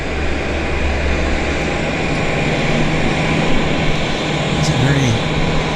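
An aircraft takes off at Vancouver YVR airport, a steady distant engine roar over a constant low hum, with faint voices in the background.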